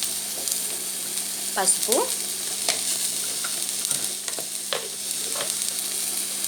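Pieces of cluster beans sizzle and fry in a hot pan with a steady crackling hiss, while a spoon stirs and scrapes now and then and a voice briefly speaks over the cooking.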